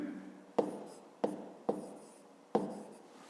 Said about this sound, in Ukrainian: Пишемо.